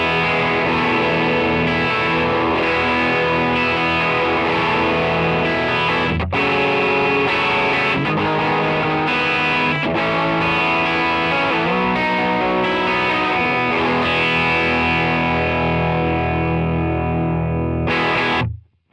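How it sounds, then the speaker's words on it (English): Electric guitar through a NAM capture of a Fender Deluxe amp fitted with an Alessandro speaker, playing driven, creamy chords and riffs with brief pauses, loud and close before cutting off at the end. "we're actually using an Alessandro speaker in this Deluxe, so that makes the drive sound super creamy and smooth"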